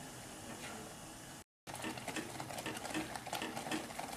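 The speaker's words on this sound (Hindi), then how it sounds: "अभी 5 मिनट्स हुए हैं और हम इसको बीच बीच में स्टर कर रहे हैं।" Walnut pudding is stirred in a pan, a dense, continuous scraping and bubbling texture, broken by a brief moment of silence before the stirring resumes more busily.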